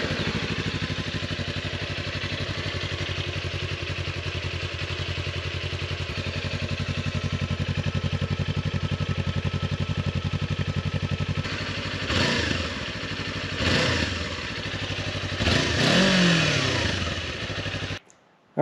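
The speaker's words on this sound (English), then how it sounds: "get you guys a stock exhaust note sound" A stock-exhaust 2023 Kawasaki Ninja 400 motorcycle idles steadily and close by, then gets several sharp throttle blips that rise and fall in quick succession near the end.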